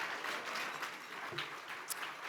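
Audience applause at an annual awards banquet for an honored graduate, a steady round of many people clapping at moderate loudness throughout, with a few louder individual claps.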